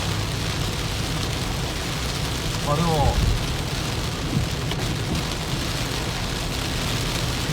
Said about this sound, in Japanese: 雨足が強くなってきました。